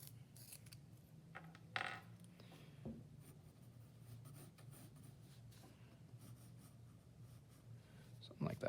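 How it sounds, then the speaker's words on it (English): A pencil is sharpened while drawing a portrait, giving quiet scraping and grinding rasps with a few sharper clicks at a low level. Soft speech is heard in the background. "Let's sharpen my pencil."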